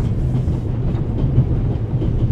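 A moving train in The Raven video game rumbles steadily with a rhythmic clickety-clack of wheels on rails, close and continuous throughout.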